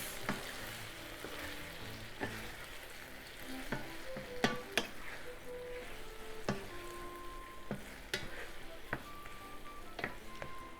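A spatula stirs a spicy eggplant and pork stir fry thickened with starch in a pan, giving quiet, repeated scraping strokes over a soft, steady sizzle.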